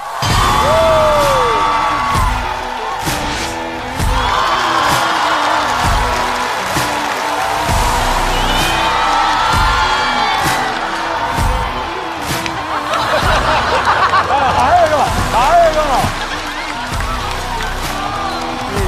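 Audience at a stand-up comedy show applauding and cheering steadily, a loud sustained crowd with whoops and shouts rising over the clapping throughout.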